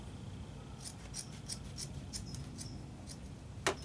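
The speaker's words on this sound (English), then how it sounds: "You're going to take two scouring pads, okay, and simply cut them in half." Scissors snip repeatedly through scouring pads, cutting them in half: a row of short, crisp cuts, close and fairly quiet, with one sharper snap near the end and no talking.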